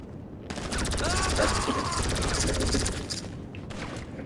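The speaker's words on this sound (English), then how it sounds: "Lay down some cover fire!" Sustained automatic gunfire from a GTA 5 firefight, dense rapid bursts lasting several seconds and loud throughout, with shouting voices mixed into the chaos.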